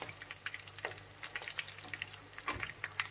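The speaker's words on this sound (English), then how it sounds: "turn your spring rolls" Chinese spring rolls frying in hot oil, heard up close as a busy crackle with sharp bubbling pops and occasional clinks as the rolls are turned.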